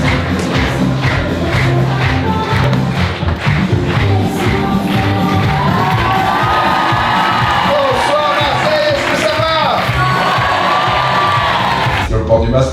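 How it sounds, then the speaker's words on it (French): A loud live-show audience in Marseille cheers, whoops and claps continuously, with shouting voices throughout and a swell of yelling near the end. "il faut faire un max de bruit, un max d'applaudissements"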